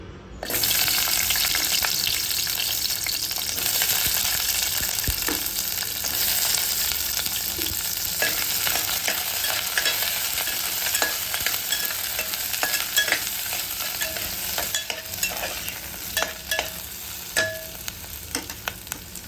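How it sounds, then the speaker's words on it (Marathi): Onions sizzle and fry in hot oil in a home kitchen pan, a steady close crackling hiss broken by occasional scraping stirs, with no voices over it. "तेल टाकलं आहे. आता याच्यामध्ये आपल्याला कांदा वगैरे टाकायचं आहे."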